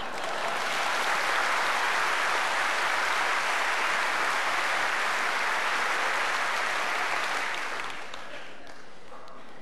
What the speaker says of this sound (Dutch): wil ik graag nu alvast mijn applaus in ontvangst nemen